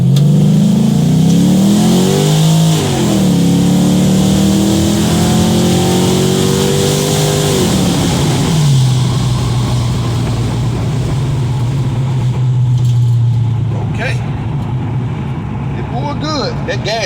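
A 1970 Chevelle's LS3 V8 roars at wide open throttle, climbing in pitch, holding high, then dropping back to a steady, loud drone; the engine is close and dominant, with faint voices beneath.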